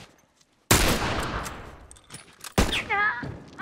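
Rifle gunfire in the online multiplayer game The Last of Us Factions: two sharp, loud shots, each followed by a decaying echo. A voice briefly calls out between them.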